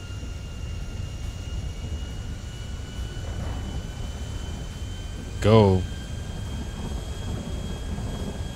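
A plane in GTA 5 hums with a steady engine drone and a faint high whine throughout, while a single short loud voice cuts in briefly near the middle.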